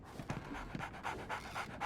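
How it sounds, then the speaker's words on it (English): A dog pants rapidly in a Sherlock Holmes video game, a quick, rhythmic series of breathy huffs heard up close over a soft background with no talking. "So, Barnes has a dog now."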